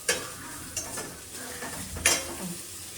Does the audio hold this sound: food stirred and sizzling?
yes